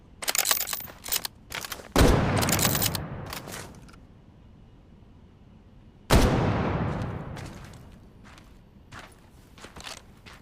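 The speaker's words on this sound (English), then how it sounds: "A flak cannon." A flak cannon in the VR shooter Medal of Honor firing in two heavy, close bursts, each a loud rolling blast that decays over a couple of seconds, with scattered clicks and mechanical clatter between them.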